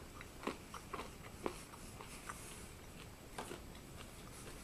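Crunchy MRE nut mix with raisins and M&Ms being chewed, a handful of quiet, brittle crunches spaced irregularly and close up over faint background hiss.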